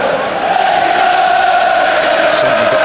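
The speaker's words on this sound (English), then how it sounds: "Certainly got the crowd going." Football crowd roaring and cheering at an England vs Austria World Cup qualifier, a loud sustained wall of stadium noise with no break across the clip.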